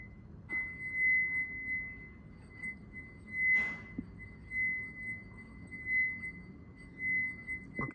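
A drinking glass a quarter full of water is struck repeatedly in a resonance experiment, producing a sustained clear ringing tone with several soft taps and one sharper knock, close and quiet, without speech.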